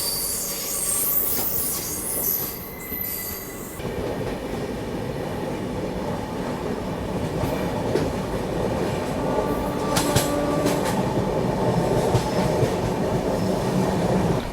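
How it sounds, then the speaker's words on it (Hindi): Amrit Bharat Express train passing close by, a sustained loud rumble of wagons with clattering wheels and high metallic squeals building toward the end, no voices. "और फाइनली क्रॉस हो रही है अमृत भारत एक्सप्रेस।"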